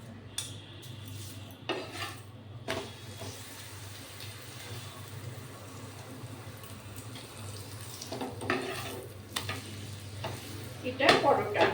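Paratha frying in ghee in a pan, a soft continuous sizzle under kitchen clatter and stirring noises, with brief bursts of running water and a louder crackle near the end.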